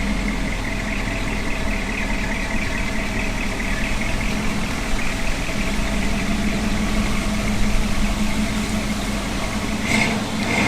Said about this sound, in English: I've never heard such a quiet engine bay, even from newer cars.